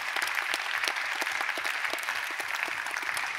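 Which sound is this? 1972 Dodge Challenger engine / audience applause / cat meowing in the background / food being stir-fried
audience applause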